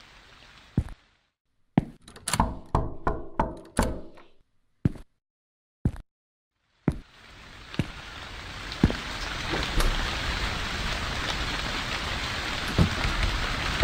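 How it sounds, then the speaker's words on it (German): Rain in a convenience-store horror video game: a few sharp knocks and thuds sound first, then a steady hiss of falling rain swells in and continues, dotted with occasional drop taps. "Oh, es regnet."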